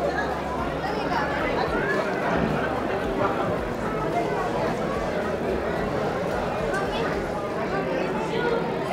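A crowd of devotees at Saptashrungi temple in Vani, a steady babble of many overlapping voices and footsteps, dense and continuous with no single voice standing out.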